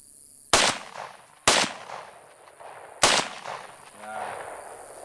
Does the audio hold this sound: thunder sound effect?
no